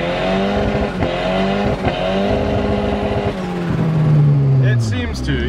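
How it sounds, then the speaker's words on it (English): A turbo drift car with a side pipe exhaust doing a burnout, its engine revving loud and harsh in rising and falling bursts, then bogging lower while tires squeal, with voices heard over it. "Just real quick, just to test, make sure it still does burnouts."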